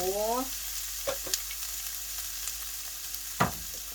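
Mixed vegetables stir-frying in pork lard, a close, even hiss of frying with a few scattered clinks and scrapes from stirring.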